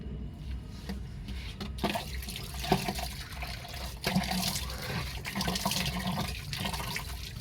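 Water splashing and pouring during a bath, a steady wet wash of sound with a few louder splashes and spills throughout, close by and with no talking.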